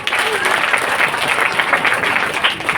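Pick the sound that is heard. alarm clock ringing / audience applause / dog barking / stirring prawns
audience applause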